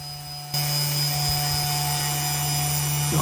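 CNC machine on a test run etching a GSA logo, a steady loud mechanical whine with a strong hum that kicks in abruptly and drones on continuously.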